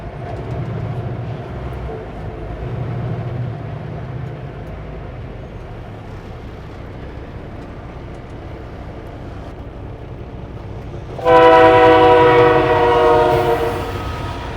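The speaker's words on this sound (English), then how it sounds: "It's a Canadian National train" A Canadian National freight train rolls past a road crossing in Mission and Maple Ridge, a continuous heavy rumble, then a loud, close multi-tone horn blast that holds for a few seconds before easing.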